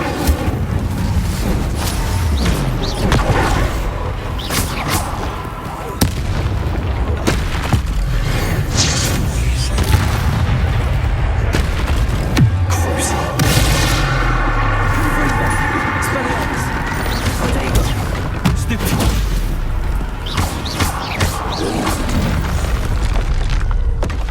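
Incendio fire spell blasts in Hogwarts Legacy combat on PS5, loud booming bursts and whooshing flame over a dense, continuous game soundscape of repeated impacts and effects.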